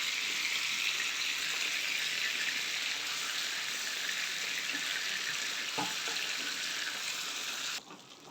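Butter melting in a hot pan while being stirred for a garlic cream sauce, giving a steady, loud broadband sizzle that holds for about eight seconds, with a brief clink near the end before the sizzle drops off abruptly.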